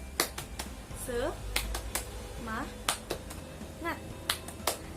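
Young pupils in a second-grade classroom perform a rhythmic chant-and-clap routine, with sharp, close claps falling in quick patterned bursts between sung or chanted children's voices.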